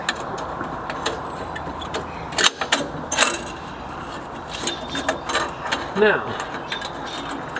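A ratchet wrench tightens a nut onto a bolt on a Mack cabover truck, giving rapid mechanical clicking in uneven bursts with a few louder clanks, close by, as someone briefly speaks.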